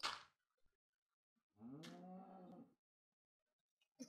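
Cow mooing in the 2D craft game, one clear, drawn-out moo in the middle, framed by brief game sound effects at the start and end, with no talk.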